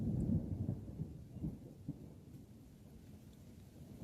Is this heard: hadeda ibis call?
no